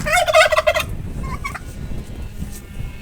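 Turkeys on a small farm give a loud, rapid burst of gobbling close by, then a few fainter calls over quiet background.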